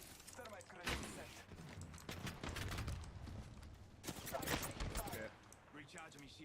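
Gunfire in the video game Apex Legends: rapid bursts of shots crackle through a continuous, busy battle mix, with louder volleys near the one-second mark and around four to five seconds.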